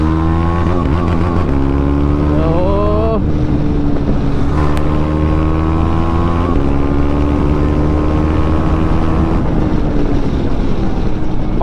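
KTM Adventure 390 motorcycle fitted with a BMC air filter, accelerating hard through several gears with rising engine pitch and a drop at each shift, continuous and loud under heavy wind rush at the helmet microphone.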